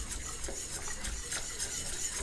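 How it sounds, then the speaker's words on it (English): A whisk stirs pectin powder into hot water in a bowl or pot, giving a steady, close scraping and swishing rhythm that runs the whole time with no talk. "Now I've found a whisk is really the best thing to use"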